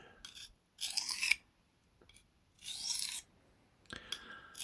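A knife blade, a Nolichucky Jack, is hand sharpened in a few separate strokes, each a short dry raspy scrape with quiet pauses between, close and fairly soft.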